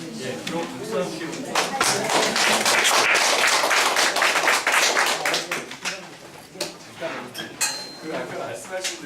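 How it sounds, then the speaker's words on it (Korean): Lecture audience claps in a room, a fairly dense burst of hand claps that swells and then thins into scattered claps with clinking sounds, with talk over it. "그럼 박수 함께"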